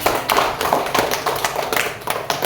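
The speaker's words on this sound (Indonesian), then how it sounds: "Kita berikan tepuk tangan dulu untuk Yaki" Children in a primary school classroom clap for a classmate, a dense patter of small hands that stays steady and fairly near throughout, with no one talking over it.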